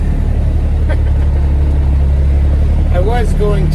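A classic Peterbilt truck drones loudly through its stacks, a deep constant engine rumble heard from inside the cab, with a voice speaking briefly near the end.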